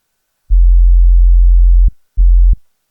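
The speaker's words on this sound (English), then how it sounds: "It's just a sine wave lowered of 2 octaves. This is how it sounds." A very low, pure sine tone, pitched down two octaves, sounds twice: one long hum of about a second and a half, then a short one.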